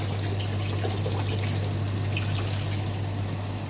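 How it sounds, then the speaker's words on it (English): Water jet flowing through an orifice meter produces a steady, continuous rushing and hissing with a constant low hum beneath it, unbroken for the whole stretch and fairly loud. "orifice is an opening through which the water flows"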